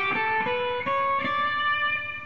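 A quick run of eight thirty-second notes from Pachelbel's Canon played on guitar through an effect, the notes blurring into a smooth, ringing line that is close and alone, with no voice over it.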